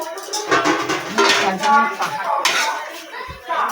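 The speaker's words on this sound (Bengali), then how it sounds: "এবার ঢাকা দিয়ে দেবো" A metal lid is set onto a cooking pot of fish curry with aubergine and black cumin, giving a few close clanks and scrapes of metal on metal over a steady background.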